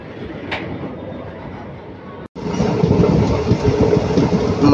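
The Mannai Express pulls out of Mayiladuthurai Junction after getting its signal, a loud rumbling, clattering rail noise that cuts out briefly and then returns fuller and steadier as the train gets moving.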